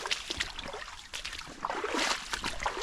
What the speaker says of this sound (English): This is an awesome little creek.